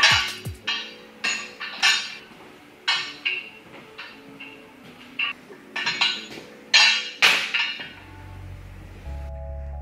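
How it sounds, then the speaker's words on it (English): A metal support structure is lifted off a steel mold for recycled plastic skateboard decks and set aside, producing a string of sharp metallic clanks and knocks at irregular intervals, then a low steady hum at the close. "lift the support structure and place it to one side"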